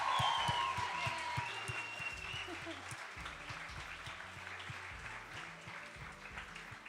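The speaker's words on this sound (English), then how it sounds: "Could we have another round of applause for our organizer, Rahima, on the weekdays as well, please?" Audience applause at a community awards ceremony, a steady round of clapping that starts strong and gradually thins out, heard at moderate distance with faint voices underneath.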